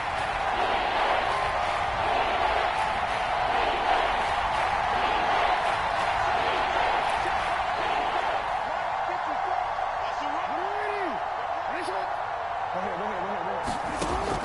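Steady roar of a video game football crowd at the Seahawks' stadium during a red zone third down, loud and continuous throughout, with a commentator's voice talking over it.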